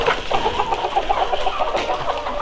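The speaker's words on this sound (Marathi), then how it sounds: "या कोंबड्या आता अंडे द्यायला चालू झालेले आहे" Laying hens on a free-range poultry farm cluck in a busy, overlapping chorus, a dense run of short repeated clucks from several birds close by that goes on without a break.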